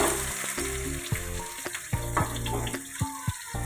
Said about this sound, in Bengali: এবার নুন হলুদ দিয়ে আলুগুলোকে ভেজে নিই।